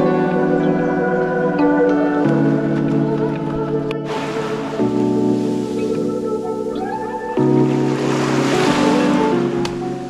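Continuous rushing surf washes in on the beach at Villas Andrea Resort, Pagudpud, with waves breaking and hissing in steady surges, mixed with a loud low drone throughout.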